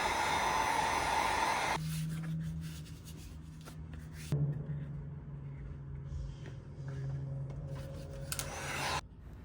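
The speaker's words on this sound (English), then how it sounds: "I'm going to carefully heat up the foam with a heat gun for about a couple seconds" A heat gun blows hot air over craft foam for a foam mask, a steady rushing hiss that drops and changes tone as it switches settings, with a lower fan hum carrying on through most of the stretch.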